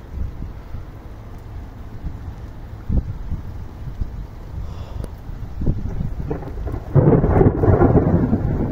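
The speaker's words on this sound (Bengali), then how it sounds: "এই বিদ্যুৎ চমকানোর শব্দে আর কি ঘুমটা ভাঙছে।" Low rolling thunder rumbles through a steady rain in Saudi Arabia, with a few sharper cracks and a louder, closer crash toward the end.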